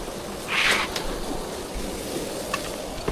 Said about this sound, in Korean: 자자, 이제 싱크대 물을 몇 회 채워서 흘려내려 봅니다.